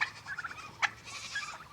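Turkeys in a chicken pen gobble in a quick rattling burst, fairly close, with a sharper call near the middle and more calls toward the end, set over steady rain and farm background with no talking.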